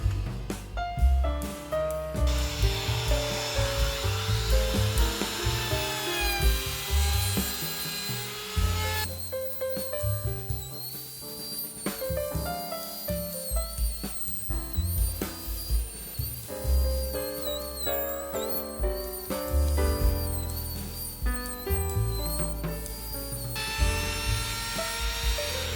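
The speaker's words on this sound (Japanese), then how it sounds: "坊主面ビットで枠の内側に簡単な飾りを入れていきます" A handheld wood trim router fitted with a roundover bit cuts a decorative edge along the inside of a wooden A4 picture frame, giving a loud, sustained high whine that shifts in pitch as the bit bites into the wood.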